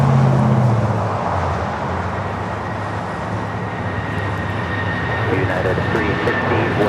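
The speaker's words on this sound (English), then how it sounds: "United 757 now rolling" A United Airlines Boeing 757 rolls for takeoff at Los Angeles International Airport, a broad roaring jet rumble with a rising whine, heard from a distance and continuous throughout.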